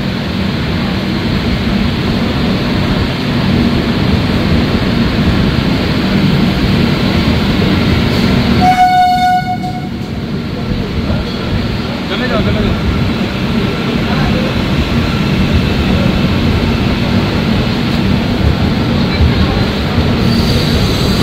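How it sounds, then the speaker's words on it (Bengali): The 13135 Kolkata–Jaynagar weekly express pulls out of platform three, its rumble loud and close and briefly broken near the middle by high, ringing wheel squeals before the steady rolling noise resumes. "তিন নম্বর থেকে ছাড়লো আমাদের ট্রেন অন টাইম"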